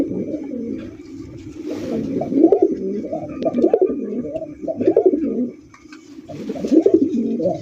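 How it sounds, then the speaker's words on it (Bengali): Pigeons coo in repeated low, rolling bursts at a pigeon market, close and fairly loud, with several birds overlapping and short pauses between phrases. "দর্শক বন্ধুরা প্রথমে শুরু করতেছি চমৎকার একজোড়া কালারিং রাসগোল্লা কবুতর দিয়ে"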